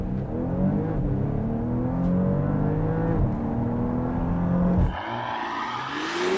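A 2024 Porsche Panamera 4 with a twin-turbo V6 on a launch-control start, engine note rising through the revs, dropping at a shift, then climbing again, loud and close from inside the car.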